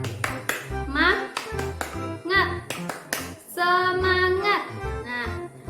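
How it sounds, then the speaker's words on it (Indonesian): A school class claps a rhythmic spirit clap in a classroom, sharp hand claps in quick patterned bursts mixed with children's chanted voices. "ayo kita melakukan tepuk semangat"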